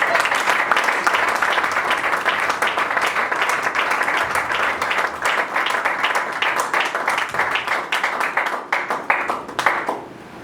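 A church congregation claps and applauds to acclaim Christ, a dense, steady wash of many hands that gradually thins toward the end.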